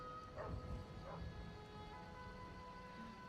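A dog in the video game Skyrim gives two short, faint barks early on, set against a steady bed of game music and ambience.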